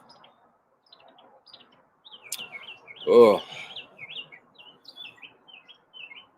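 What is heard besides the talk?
bird chirping nearby on elderberry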